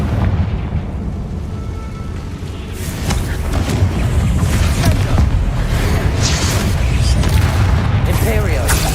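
Confringo blasting spells explode during combat in the video game Hogwarts Legacy, a loud, dense run of booms and bursts that keeps building, with voices mixed in.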